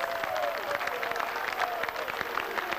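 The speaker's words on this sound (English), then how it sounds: "I think that applause is for the referee" A football crowd at a 2001/02 Plymouth versus Shrewsbury Town match applauds, scattered claps rising from a distant stadium crowd over a general murmur, with a faint whistle-like tone drifting in.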